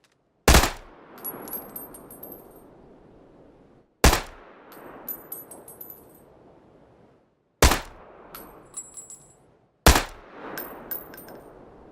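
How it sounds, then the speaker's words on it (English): Four single loud gunshots from an unsuppressed Tommy gun in PUBG, each a sharp supersonic crack followed by a long decaying echo with faint metallic pings, spaced a few seconds apart. "But even here, you can hear a supersonic crack when not using a suppressor."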